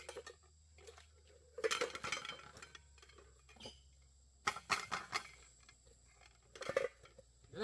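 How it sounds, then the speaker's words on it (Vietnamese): A cooking pot is banged in a few scattered metallic clanks and rattles, fairly faint against a quiet background, with short pauses between the knocks. "Đây là cái nồi đấy bố ạ, không phải đập đâu"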